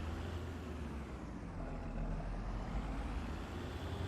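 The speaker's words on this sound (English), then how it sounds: "whoa, brakes." Truck air brakes in a farming video game, a steady loud engine rumble with a broad hiss running through the whole stretch, no talking over it.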